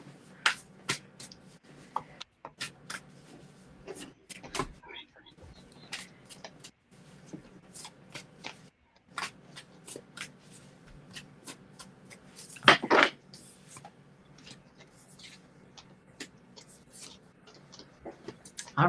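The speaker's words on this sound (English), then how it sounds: "Let me do a couple more shuffles then." Playing cards being shuffled during an intuitive card-reading chat, a run of soft, brisk riffling and tapping bursts with brief pauses between them, close and fairly quiet, with no talk.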